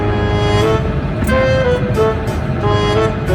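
Busy road traffic at the Kuano crossing of Magdalo and Burgos streets in Iloilo, with engines idling and rumbling nearby and several short horn toots sounding throughout, with no break in the noise.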